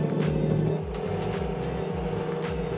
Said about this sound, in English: That's how this thing starts. It's incredible. You know it's a V12 the way it starts.